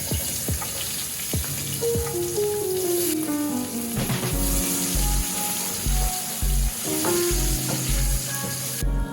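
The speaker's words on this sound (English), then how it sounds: "While my onions is frying" Onions sizzle steadily in hot oil, a continuous crackling hiss throughout, with faint tonal music underneath.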